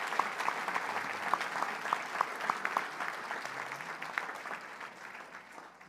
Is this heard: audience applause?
yes